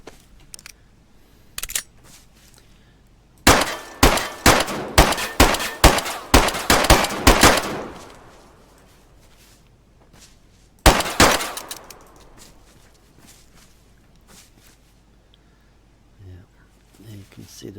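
A string of about a dozen evenly spaced pistol shots in the video game DayZ rings out loud and close, then a second short volley follows after a pause, with faint clicks in between.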